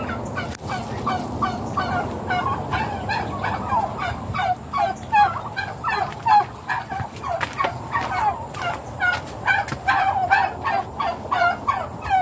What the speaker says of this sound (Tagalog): Yan na naman yung kaaway kong manok.